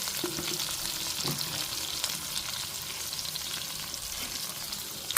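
Bottle gourd and tomato chutney vegetables with a little salt stirred in a hot pan, a steady close sizzle with a few scraping spoon strokes early on, continuing evenly throughout.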